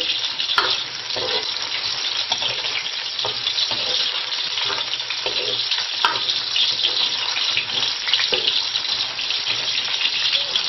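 Ingredients stir-frying in a wok for Guangdong-style beef offal soup, a continuous bright sizzle with repeated stirring scrapes and knocks.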